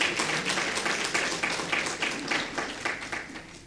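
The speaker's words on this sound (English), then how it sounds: "Give him another round of applause." An audience at an education honour awards ceremony applauds in a steady, moderately quiet patter of many hands clapping, with no talk.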